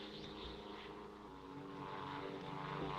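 A propeller-driven fixed-wing plane drones steadily overhead in a 1950s war drama setting, its engine hum continuous and moderately loud with no voices.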